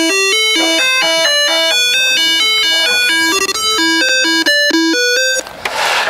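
An Arduino plays the theme from The Exorcist as a bright, buzzy square-wave melody of quick repeating notes, loud and continuous, ending with a burst of noise.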